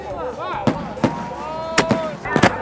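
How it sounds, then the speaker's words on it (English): Fireworks bursting at Thailand's Rocket Festival, several sharp close bangs in an irregular cluster, some doubled, over crowd noise and voices talking. "They're just fireworks."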